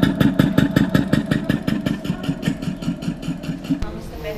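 The first Benz patent motor car of 1886 runs with a rapid, rhythmic chugging of its single engine, loud and close in a museum hall. The chugging fades toward the end and gives way to a brief thump.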